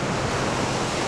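Heavy ocean surf surging and crashing into a sea cave on a rugged coastal hiking trail in Portugal, a steady broadband roar of churning water and wind with no clear breaks, loud and close.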